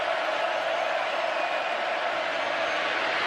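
Steady roar of a packed stadium crowd at a college football game between Alabama and Texas A&M, a dense continuous wash of many voices at even loudness with no single voice standing out.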